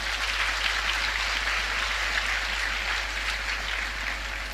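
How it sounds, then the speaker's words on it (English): A church congregation claps for a woman preacher in a steady, even roar of many hands, sustained throughout over a constant low hum. "give her a mighty hand clap."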